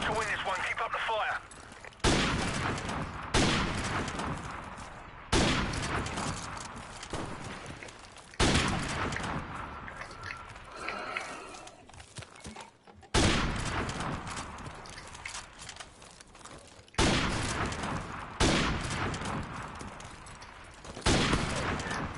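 Video game gunfire erupts in repeated bursts, each a loud crack of rapid shots that trails off into echoing decay, separated by brief gaps and spread over a long stretch, with voices talking occasionally beneath.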